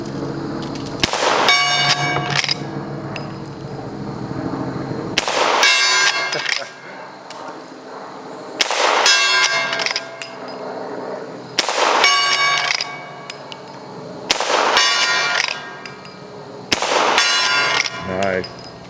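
Heavy rifle slugs from a Western-era lever-action rifle strike a steel gong downrange, six sharp gunshot cracks spaced a few seconds apart, each followed by a ringing metallic clang and long decaying hum, loud and without speech.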